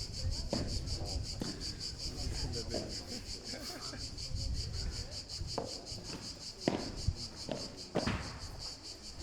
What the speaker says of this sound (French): Et toujours nos cigales que vous pouvez entendre en live.